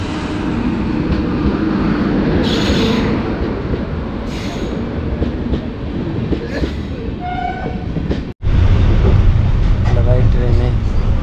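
A passenger train runs in a loud, continuous rumble with rattling wheels, brief squeals and a horn-like tone, then a short break before the roar resumes.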